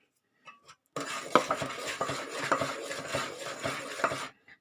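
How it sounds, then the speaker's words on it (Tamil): Flour added bit by bit and stirred into a pan so no lumps form while making sweet adirasam, a steady scraping and knocking of a utensil against the pan for several seconds, with rhythmic louder strokes after a brief quiet start. "இனிமேல் மாவை கொஞ்சம் கொஞ்சமாக சேர்த்துக்கலாங்க கட்டி இல்லாமல் கிண்டிக்கலாம்"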